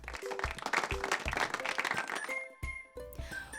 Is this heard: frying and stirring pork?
no